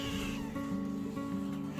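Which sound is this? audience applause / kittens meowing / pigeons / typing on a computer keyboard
kittens meowing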